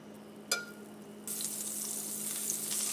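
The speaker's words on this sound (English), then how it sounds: "we've cleaned the pan. I'm gonna add a little butter." Butter sizzling in a cleaned frying pan before eggs go in, starting with a clunk and then breaking into a sudden loud, steady hiss that holds close and continuous, with no talk.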